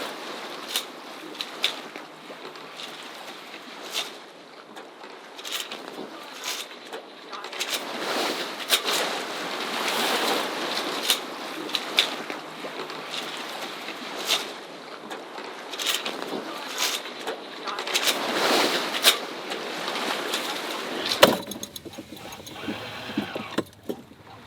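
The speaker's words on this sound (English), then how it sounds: "We finally have wind, so we got the sails up, and thankfully we're able to shut off the motor." Sailboat under sail in the wind on the Atlantic Ocean with the motor off, steady wind and water rush with scattered creaks and knocks from the boat, ending in a louder gusty stretch of wind on the microphone.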